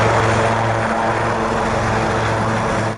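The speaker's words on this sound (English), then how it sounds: "worth playing back just for the sound of the aircraft" Aircraft at the Duxford 2016 air show pass close by with a loud, continuous propeller-engine drone. The steady roar holds for a few seconds with a low throbbing hum, then cuts off sharply.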